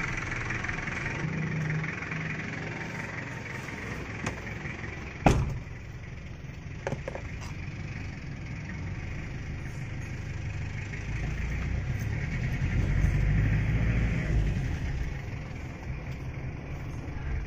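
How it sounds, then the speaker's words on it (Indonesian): An Isuzu Panther 2.3 diesel car engine runs steadily on a road test after a rebuild, a continuous close rumble with a single sharp knock partway through and a slight swell near the end. "Ini saatnya kita mencoba mobil ini di jalan raya untuk melihat hasilnya bagaimana."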